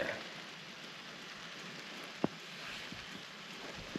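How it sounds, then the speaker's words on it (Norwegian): Light drizzle falling outdoors in the mountains, a soft, even patter of raindrops with one or two sharper close drips, alone with no talk. "Nå yrer det litt grann."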